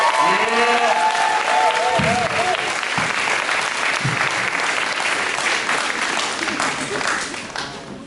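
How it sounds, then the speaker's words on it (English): An audience applauds for spoken-word poet Troy Osaki, dense clapping with a few whoops and cheers, loud at first and tapering off toward the end. "People round of applause for Troy Osaki!"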